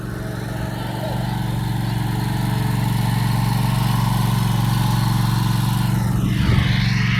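A small engine drones steadily nearby like a lawn mower running, its pitch holding even, with a brief swell of other sound near the end.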